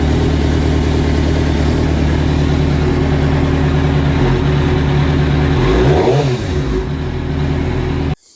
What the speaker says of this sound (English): it is a GSXR 600K3. Fuel injected, wicked bike, absolutely love it.